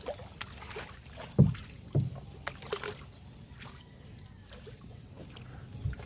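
Kayak paddling on the Loboc River in Bohol, Philippines: soft, irregular splashes and drips of paddle strokes in the water, close but faint, with a couple of louder dips.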